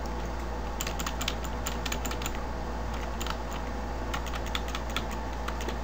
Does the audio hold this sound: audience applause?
no